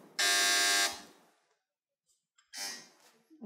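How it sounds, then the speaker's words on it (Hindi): An electric quiz buzzer tested before a buzzer round in a team quiz show sounds one loud sustained buzz of almost a second, then a shorter second buzz after a pause. "एक बार आप आप दोनों टीमें बजर चेक कर लें"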